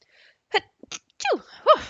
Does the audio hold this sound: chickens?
no